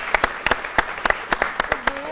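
Scattered, distinct individual claps on a French television midday show, a sparse, irregular handful of sharp hand strikes rather than a full crowd, with a faint voice near the end.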